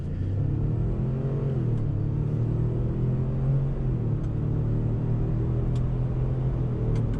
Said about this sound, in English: Okay, 0 to 60, we're in sport mode.